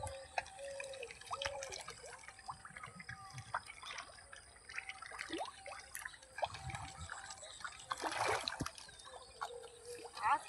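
Desi magur catfish in a farm pond thrash and splash at the surface while feeding, giving a steady run of watery slaps and drips with a stronger burst near the end, under occasional talk.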